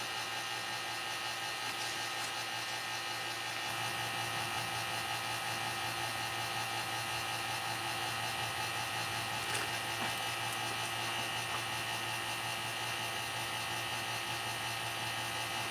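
A vacuum pump hums and whines steadily at close range with no pauses, giving an even, continuous mechanical drone with no talk.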